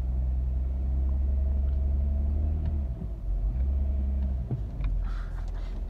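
A 2005–2007 Chevy Malibu with stuck wheels creeping forward under barely any throttle, giving a steady low engine rumble close by with a few soft mechanical knocks and no talk.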